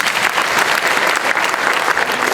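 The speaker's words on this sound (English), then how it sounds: "One more clap" Loud, continuous applause from a conference audience of magistrates and registrars, a dense, even roar of many hands clapping that holds steady from start to finish.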